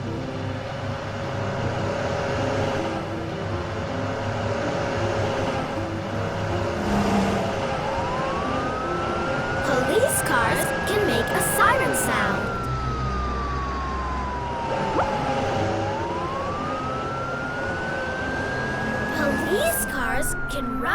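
A toy police car's wailing siren sweeps up and down in slow arcs over a busy background of music and clatter, fairly loud and steady throughout.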